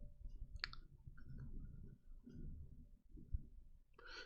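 A few soft, dry mouse clicks, sparse and close, alone against a faint low room hum.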